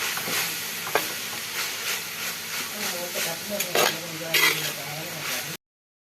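Spices being stirred and mixed in a frying pan for Kerala-style beef fry, with a continuous sizzle under repeated scraping strokes and a few metallic clinks of the spoon against the pan.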